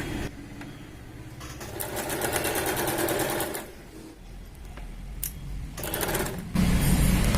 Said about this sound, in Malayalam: അവിടുന്ന് നമുക്ക് താഴേക്ക് സ്റ്റിച്ച് കൊടുക്കാം